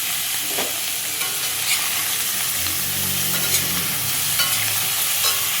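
Paneer cubes roasting in a little oil in a pan give a steady, close sizzle with soft scraping stirs, broken by a few brief clicks of a utensil and no talk.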